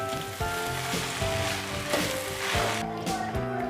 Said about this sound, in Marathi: आता कोथिंबीर टाकून मी चांगलं हलवते ह्याला.